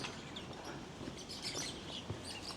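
Lovebirds and budgies chirp in a garden aviary, with faint scattered tweets over a soft, noisy outdoor background.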